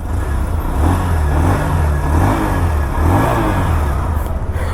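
A Bajaj Platina 100 motorcycle engine idles and is blipped a few times by hand, its low putter rising into short revs and settling back, close up and loud with no talk.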